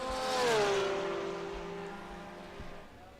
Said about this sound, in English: we have him in the official tyres Porsche Carrera GT3 car right now, heading around the track